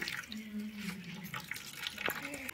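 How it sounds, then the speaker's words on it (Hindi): Water drips and trickles as freshly boiled mustard greens are squeezed out by hand in a kitchen, soft, close splashes over a low background hum with a sharper drip near the end. "तो इसी तरह हम सारे साग का पानी निचोड़ लेंगे दोस्तों"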